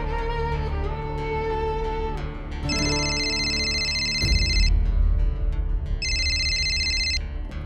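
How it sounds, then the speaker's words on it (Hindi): A phone ringtone plays over a dramatic music backdrop, two bright repeated ringing bursts ringing out unanswered with no voices. "निधि, फोन क्यों नहीं उठा रही हो तुम मेरा?"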